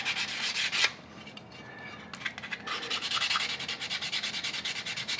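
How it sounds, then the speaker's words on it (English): Fine 400-grit sandpaper rubbed over a painted gun part such as a bolt carrier, distressing a Rhodesian-pattern camouflage finish. A brisk scrape opens, then after a pause come steady, fast back-and-forth strokes, close and alone. "Just take your fine, maybe 400, and just rub it."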